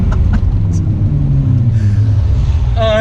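A 615-horsepower all-wheel-drive 1990 Nissan Skyline R32 engine revving while driving down the road, a loud continuous rumble that rises in pitch toward the end, heard from inside the car.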